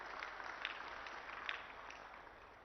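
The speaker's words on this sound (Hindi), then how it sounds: "एक जोरदार ताली बजा दीजिए सब लोग इस बात के लिए" A crowd at a political event in Punjab claps together, a faint, distant wash of applause with a few sharper claps standing out.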